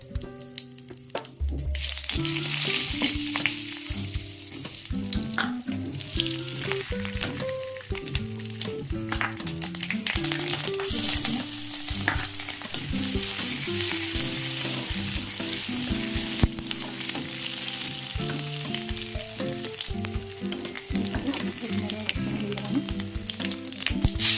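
Saag greens sizzle and crackle in hot oil in a pan, a dense, continuous frying hiss with stirring scrapes and clatter running throughout.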